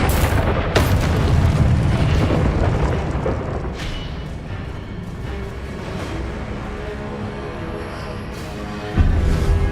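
Confringo, the explosive fire spell from the Hogwarts Legacy video game, lands as a loud, close boom, then a long rumbling roar that slowly fades before a second burst near the end, with no talking.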